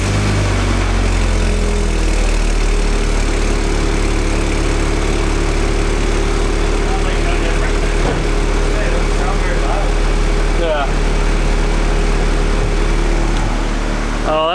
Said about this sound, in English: So yeah, I'll fire it up for you guys really quick.